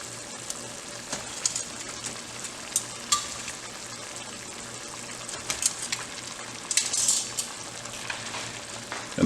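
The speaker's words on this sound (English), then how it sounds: "So we add our beef back in." Beef cheeks sizzle and fry steadily as they go back into a hot pot for braising, with scattered stirring clatter and brief bursts of louder crackle, close and continuous with no voices.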